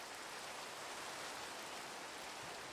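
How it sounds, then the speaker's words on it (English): Steady rain falls in the Minecraft video game as a dense, even hiss that holds at one level throughout, with no talking over it. "It's rainy."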